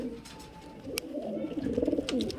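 Kalshira and Giribaj pigeons coo nearby in a loft, a warbling throaty stream that builds louder and more rhythmic over a couple of seconds, with a sharp click partway through.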